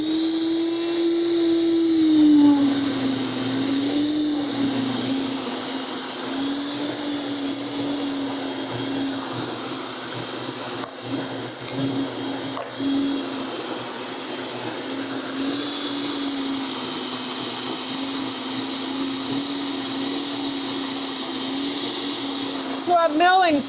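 An electric grain mill grinds wheat into flour with a loud, steady whine that briefly shifts pitch near the start and then holds constant, with talk faintly beneath it.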